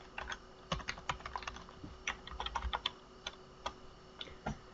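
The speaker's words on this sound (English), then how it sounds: "I'm going to type in my user ID again." A user ID being typed on a computer keyboard during a login: a quiet, close run of irregular key clicks in quick bursts with short gaps, and no talking.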